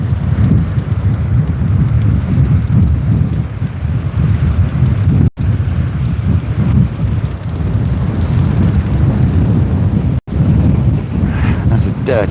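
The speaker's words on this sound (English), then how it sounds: "It's still quite windy." Strong wind on the open sea shore buffets the microphone in a loud, continuous roar with gusting surges and a couple of brief dropouts, heard from a fishing kayak.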